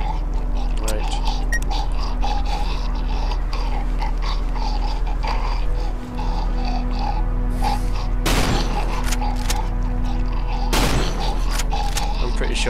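Two sharp, loud gunshots from a hunting rifle in the video game Cry of Fear ring out a few seconds apart over a steady, low droning game ambience.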